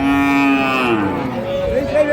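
A dairy cow at a village cattle haat gives a long, loud, close moo followed by a shorter second call, with market murmur faintly behind.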